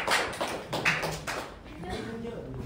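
Brief, fairly faint clapping from a classroom group during a saxophone lesson, a short burst of claps mixed with room noise and some talking.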